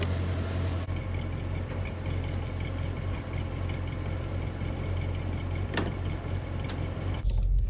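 An Audi RS7 with a Stage 1 tune running E85 flex fuel idles on a dynamometer, a steady low engine hum that holds throughout with a brief clatter near the end.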